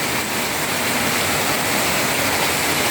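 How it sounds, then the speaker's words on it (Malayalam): Heavy monsoon-season rain pours down steadily in Kalanad, Kasaragod, a dense, unbroken hiss that stays loud and even throughout with no voices. "നല്ല മഴയാണ്, രാവിലെയുണ്ട്,"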